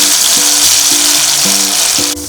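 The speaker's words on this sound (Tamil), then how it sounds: "இப்போ பொரிக்க போகிறேன்." Boneless chicken coated in masala fries in oil in an iron pan, giving a loud, steady sizzle and crackle throughout, with a few faint tones in the background.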